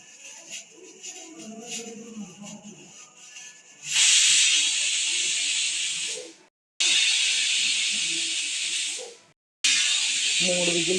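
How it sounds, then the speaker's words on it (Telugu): A pressure cooker of rice-rava dumplings lets out loud hissing steam whistles, two long blasts that each cut off abruptly, after a quieter stretch where someone speaks over kitchen background. "మూడు విజిల్స్ వచ్చినాయి కదండి."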